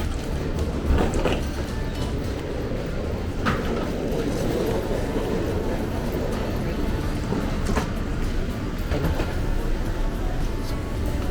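An express train pulls into Taipei Main Station, a steady loud rumble of wheels and carriages with faint clanks over the platform din, no talk.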